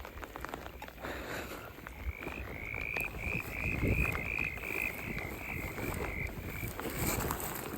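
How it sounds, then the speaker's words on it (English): Small frogs croak in a rapid string of chirping calls across a wet, rainy campsite, heard near and clear above a steady wash of rain and wind. "Little frogs, eh?"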